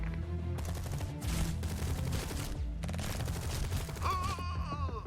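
Rapid bursts of rifle and machine-gun fire from soldiers in the RTS Tempest Rising, two long crackling volleys separated by a short gap, followed by a brief tonal game sound.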